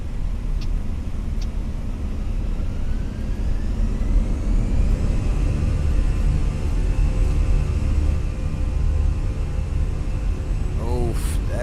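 In Microsoft Flight Simulator 2024, the CFM engines of an A320 spool up into a steady, loud, broadband roar with a slowly rising whine running through it, sustained for about twelve seconds, with a brief chirp near the end.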